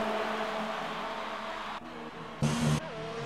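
Race cars in an X2RL race in Great Britain exit the final corner with a steady, buzzing engine drone, a short loud burst as one car passes close, then the whine continues.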